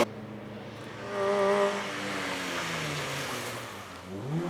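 Micro rally cars racing around Cadwell Park: a small-engined car drones and rises in pitch as it accelerates past at a moderate distance, its engine note falling away and then climbing again.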